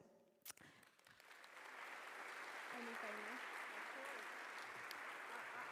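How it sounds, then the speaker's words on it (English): Audience applause at an environmental economics awards session, rising after a brief sharp sound into sustained, fairly faint clapping from a crowd, with faint voices underneath. "applauding for your supervisors because they are prominent members of the community"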